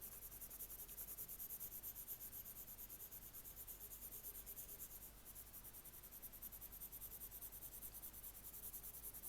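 Coloured pencils drawing on paper, a faint continuous scratchy rubbing of pencil tips across the sheet, quiet and close with no talking.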